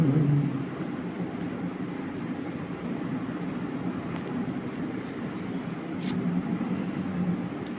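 A train passing Mayyanad village railway station in Kerala, India, a steady low rumble of wheels and carriages rolling past at close range, with wind noise and no talk.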